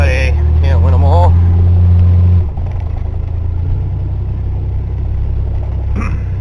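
An old truck's engine drones and rumbles loudly and close while driving, with a brief voice and whine over it early on before the engine note drops and settles into a steady running rumble.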